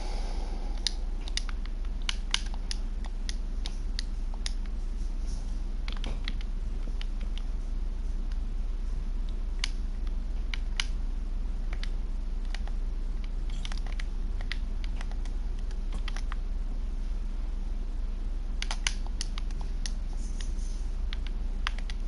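Rain falling in a Minecraft survival game: a soft, steady patter with scattered faint crackles and ticks, quiet and even throughout with no talking.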